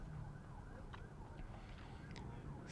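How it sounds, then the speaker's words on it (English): A siren wails far off near the Kia Oval cricket ground in London during a county match, its faint wavering tone riding over a steady rumble of background noise. "Sound of a siren"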